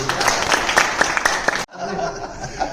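An audience at a New Year kavi sammelan poetry gathering bursts into applause mixed with chuckles and chatter, then the clapping cuts off abruptly and murmuring room sound follows.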